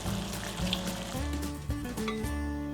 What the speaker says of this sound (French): Je vais faire bouillir le mélange.